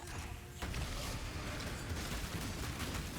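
A detonation in Path of Exile sets off a sudden dense burst of rumbling, crackling explosions that continues as a loud sustained roar after a quieter moment.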